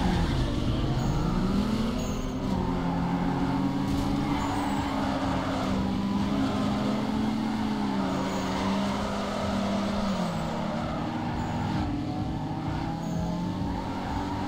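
A car drifting in Need for Speed Underground 2, with a steady engine roar and a long, wavering tire squeal that rises and falls throughout, loud and continuous, with no talking.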